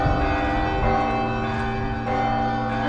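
Church bells ringing loud and near outdoors, a dense, continuous clangor of overlapping bell tones and sustained ringing that fills the whole stretch without pause.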